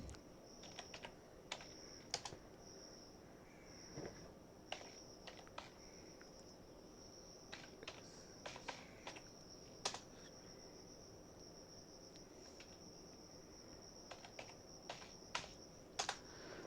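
Computer keyboard typing in Microsoft Word: irregular bursts of light key clicks, some close and sharp, over a faint steady high-pitched hum, with no talking.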